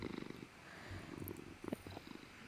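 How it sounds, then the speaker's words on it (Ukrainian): A cat purrs close up, a soft rhythmic rumbling of repeated breaths that pauses briefly and resumes, quiet and without talking. "Ну що ти мурчиш?"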